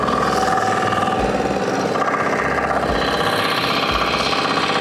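A FTI2010DE III mini tractor with an upgraded transmission climbs a steep terrace slope about 60 cm high. The engine chugs loud and close in a rough, rapid knocking rhythm that holds steady under load, with no one talking.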